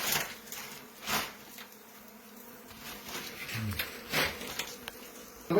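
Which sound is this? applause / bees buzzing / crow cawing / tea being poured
bees buzzing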